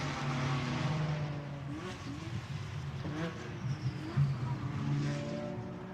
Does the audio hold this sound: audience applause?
no